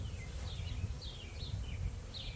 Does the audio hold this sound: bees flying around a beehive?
yes